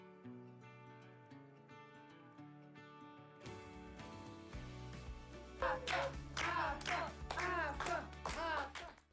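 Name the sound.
audience applause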